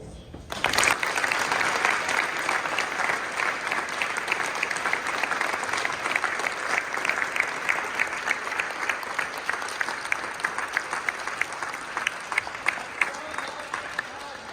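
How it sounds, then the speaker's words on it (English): A school gathering claps for its state-tournament wrestlers, a sustained round of applause with individual claps audible throughout and a few voices in the room. "Let's give them some applause."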